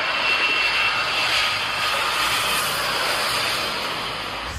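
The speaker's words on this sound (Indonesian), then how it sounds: "ada pesawat terbang Airbus" A toy Airbus A380 airplane gives off a steady, loud jet-engine roar, a dense unbroken rush of noise that holds for several seconds and fades slightly toward the end, with no voices.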